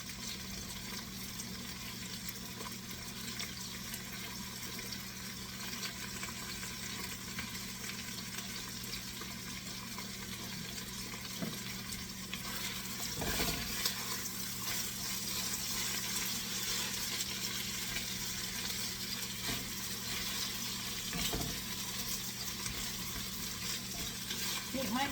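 Vegetables for choucroute garnie cook in a pan, a steady soft sizzle and hiss running continuously for a long stretch, with a few faint clinks and stirring noises breaking through now and then.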